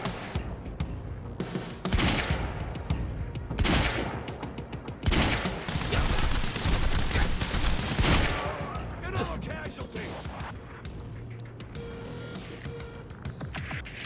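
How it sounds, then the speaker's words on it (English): Heavy pistol gunfire in Quantum Break, loud close bursts of shots in several bunched volleys amid other game combat noise, fading to a quieter hum afterward. "Did I just headshot one of them to death with the heavy pistol?"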